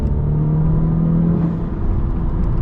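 A tuned Honda pulling hard in third gear, map 2 and sport mode, a loud low engine drone with a steady rising tone that breaks off partway through.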